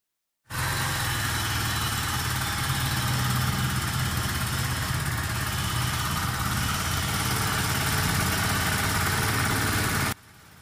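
A Kawasaki Barako 3 FI motorcycle engine idles steadily and close up at an unstable idle, a continuous low mechanical drone with a constant rumble, running alone for about ten seconds before cutting off sharply.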